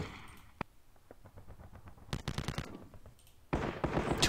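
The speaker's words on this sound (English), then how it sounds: "Machine gun unit." Machine gun fire in the World War II strategy game Panzer Battles at Kursk, rapid rattling bursts that start sparse and faint, build into dense volleys, then end in a louder sustained roar.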